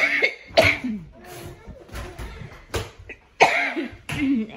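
Several short, harsh coughs come in separate bursts, close by, with pauses between them.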